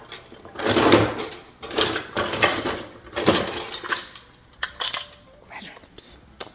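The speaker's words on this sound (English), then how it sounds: "I got my cups. My measuring cups." Measuring cups clatter and clink as they are handled in a home kitchen while getting ready to bake cookies, giving several loud bursts of hard rattling with short pauses between them, close to the listener.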